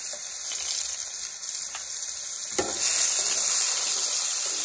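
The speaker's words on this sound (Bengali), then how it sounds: "গাজরটাকে আমি আলাদা করে ভেজে নিচ্ছি" Carrots deep-frying in hot oil, a continuous close, bright sizzle that swells slightly partway through, with faint stirring and no voices.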